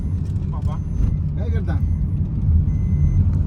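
Steady low rumble of road traffic with idling vehicle engines, a voice speaking briefly over the continuous hum.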